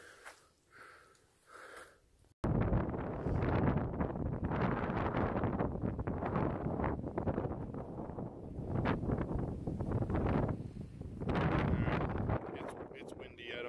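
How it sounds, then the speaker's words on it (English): Strong, blustery wind buffets the microphone almost continuously on the Appalachian Trail between Unicoi Gap and Rock Gap near Franklin, North Carolina, a loud roaring rumble with gusts rising and falling, after a brief quieter start. "It's windy"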